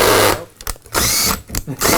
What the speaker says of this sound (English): let's drill the lock